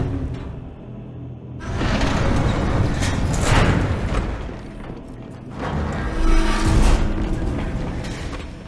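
A heavy door grinds open in Gears 5, a deep, loud rumbling mechanism that rolls on for several seconds, swells again near the end, and plays alone without talk.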